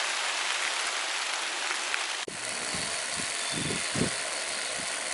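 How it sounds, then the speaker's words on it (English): Steady rain from a sudden heavy monsoon shower pours outdoors, a dense hiss throughout with a sharp knock midway and a few low rumbles after. "Like I said, it's decided to rain."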